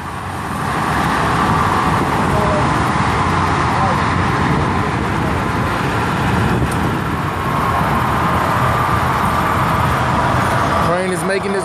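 Freeway traffic rushes past in a dense, steady roar of passing cars and trucks, loud and continuous, with a brief clatter near the end.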